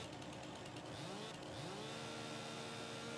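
Chainsaw cutting wood in Farming Simulator 2019, a continuous buzzing engine drone whose pitch sweeps and revs up and down, steady and fairly loud throughout.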